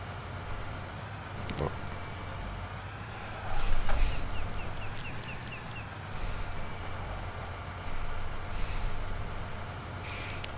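A truck's air brake in Farming Simulator 19 releases a sharp hiss of compressed air against the steady rumble of an idling engine, followed by weaker hissing bursts.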